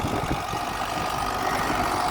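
A tractor cultivates between rows in a melon field, a steady rumbling engine with faint knocking, close and continuous, with no voices.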